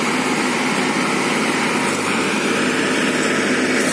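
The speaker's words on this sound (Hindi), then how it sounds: "ट्रैक्टर फंसा हुआ है" A tractor engine runs while the tractor sits stuck in mud, giving a steady, dense mechanical drone that holds at an even loudness for the whole stretch with no voices over it.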